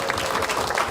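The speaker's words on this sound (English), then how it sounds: "So give yourselves a round of applause." A church congregation at a Presbyterian service in Blue Ridge, Georgia breaks into applause, a dense, steady patter of many hands clapping that fills the whole short moment without any break.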